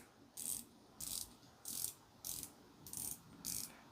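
Bezel of a Magnum P.I. Momentum Sea Quartz 30 dive watch turned in six short, evenly spaced bursts of fine ratcheting clicks, close and fairly quiet with nothing else around.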